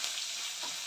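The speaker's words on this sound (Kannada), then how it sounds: "ಇವಾಗ ಅದನ್ನು ನೀವು ಚೆನ್ನಾಗಿ ಎಣ್ಣೆಲಿ ಹುರಿಬೇಕು ಸ್ನೇಹಿತರೆ. ಫುಲ್ಲು ಎಣ್ಣೆಲಿ ಬೇಯಬೇಕು ಅದು ಈರುಳ್ಳಿ ಕೆಂಪುಗೆ" Onion frying in plenty of oil for a village-style sambar, a steady, close hiss and sizzle throughout the short moment.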